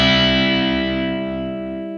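A sustained distorted electric guitar note with effects decays steadily over two seconds, played alone as part of a slide riff.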